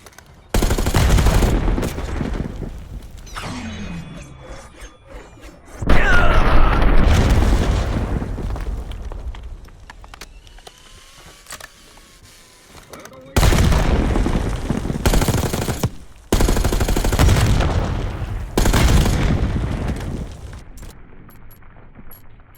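Grenade explosions and heavy gunfire sound in the Black Ops 6 campaign. Loud booming blasts and sustained rattling bursts alternate with quieter stretches, dense and close.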